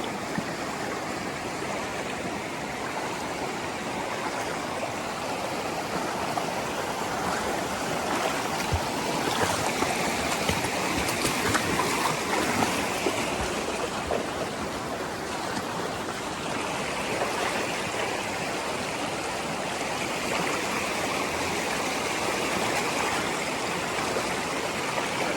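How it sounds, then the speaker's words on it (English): Small stream near Rio Cuale in Puerto Vallarta, flowing water rushing steadily and close, a constant broadband wash with no talk. "Actually, there's a little river back there that I see stuck at. Not even a river, a stream."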